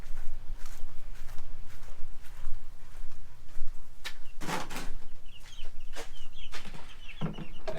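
Farm hens cluck and call in a coop, with scattered sharp squawks and low clucks rising over a steady background, close by.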